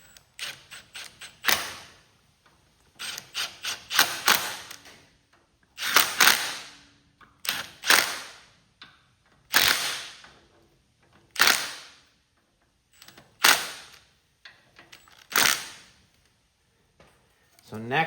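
Tightening the stator on a Kohler KT17 engine from a Cub Cadet 782, with close, crisp bursts of ratchet-like clicking in short uneven groups separated by brief pauses.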